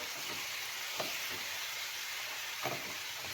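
Turmeric being stirred in a hot frying pan for veg biryani, with a faint, steady sizzle and hiss and a couple of soft scraping strokes.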